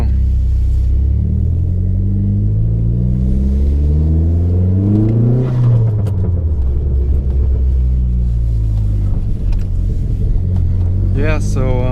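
A Dodge Neon SRT-4 fitted with a V6 engine drives along on a snowy day, its engine droning and rising through steady revs close by, with a voice talking over much of the run.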